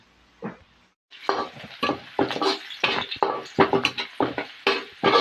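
Garlic and onion sautéed in a pan for breakfast, a run of rhythmic metallic scrapes and clinks from a utensil stirring against the pan over a soft sizzle, close and steady with no voices.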